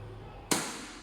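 A WE P14 Hicapa 1911 toy gun fires a single sharp crack, loud and close, with a short decaying tail in an otherwise quiet room.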